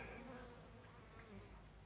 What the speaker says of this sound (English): I've had a couple of bees bump into me